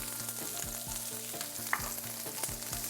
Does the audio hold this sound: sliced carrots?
yes